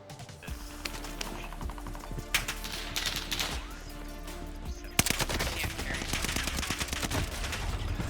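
Rapid gunfire bursts crackle through a close firefight in Warzone, the video game, with dense automatic shots and a sharp louder volley midway, layered over continuous game ambience.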